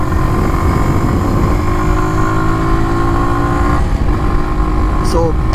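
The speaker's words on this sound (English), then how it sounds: "so when you have to accelerate harder, downshift and do this" A Kawasaki W175 motorcycle accelerates hard after a downshift, its engine drone loud, steady and constant throughout, with a brief dip near the end.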